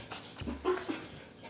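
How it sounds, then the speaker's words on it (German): Dogs pant softly and let out a brief whimper and small yip, close by and fairly quiet, with a faint low rumble underneath. "Dieter und seine Hunde Papageno und Tamino."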